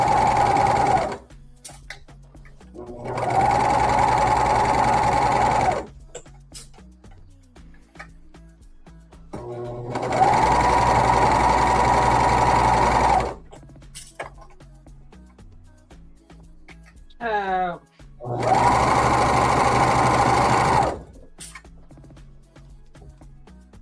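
Sewing machine stitching the cuffs of a cropped woven cardigan, running in four loud sustained bursts of several seconds each, separated by quieter pauses with small handling clicks and a brief whirring sound between.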